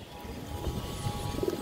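A restless ash-eyed high-flyer pigeon coos softly and low, a few muffled calls rising from a faint, steady background hum.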